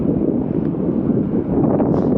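Heavy wind at a seaport buffets the microphone with a constant low roaring rumble, steady and loud throughout.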